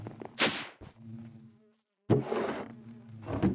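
Buzzing bees swarm around busy hives in a Minecraft modded game, coming in two loud close bursts of droning hum separated by a short silent gap.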